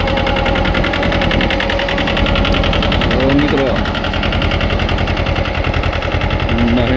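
A small Mahindra Jivo 225 4x4 tractor pulls a five-tine harrow through a fodder field, its engine a loud, steady, close chugging drone throughout, with someone talking over it.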